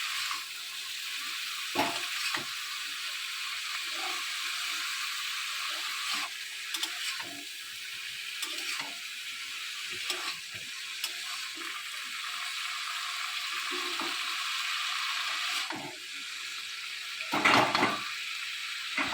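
Broccoli frying in a pan with turmeric, salt, black pepper, coriander and cumin, a steady soft sizzle running throughout with occasional clinks and stirring scrapes, no talking.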